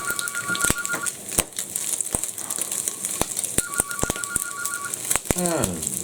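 A ham and sausage omelette spits and crackles in a hot frying pan with irregular sharp pops over a constant sizzle, while brief electronic phone beeps sound twice in the background.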